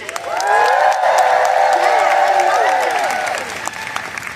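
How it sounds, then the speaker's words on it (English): A seminar crowd at a 2024 Mary Kay event bursts into loud applause mixed with cheering and high whoops, swelling quickly and then easing off toward the end. "let's celebrate your first time with some cheering"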